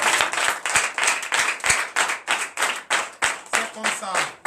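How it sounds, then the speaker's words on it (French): A church congregation at a night deliverance and prophecy service claps in unison, loud rhythmic beats about three per second, with singing or voices running underneath. "Donne l'acclamation au Seigneur."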